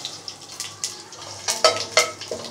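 Bay leaves, cloves, star anise and cumin seeds roasting in a pan: a light, steady sizzle broken by soft stirring scrapes and a few sharp clinks of utensil on metal, close and alone.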